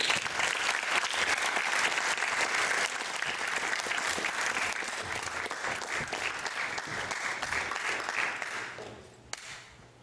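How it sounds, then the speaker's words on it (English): A large audience at a live event breaks into loud, sustained applause that holds steady for several seconds, then thins and fades near the end. "can you guys give them a huge round of applause"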